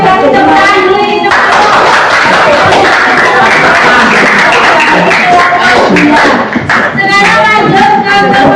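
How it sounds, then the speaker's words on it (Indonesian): Classroom of seventh-grade students clapping for a group that just finished presenting, a loud, dense burst of hand claps lasting several seconds with voices mixed in. "Oke, kasih tepuk tangan dulu ini."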